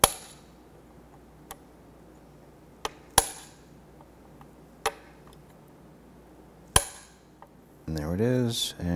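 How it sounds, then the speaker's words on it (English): A pin punch is struck by a hammer to drive cotter pin remnants out of a Chevrolet S10 front upper control arm. Several sharp metallic taps come at irregular intervals in a quiet shop, followed by a brief burst of talking. "We're going to use a small pin punch to go ahead and pop that out."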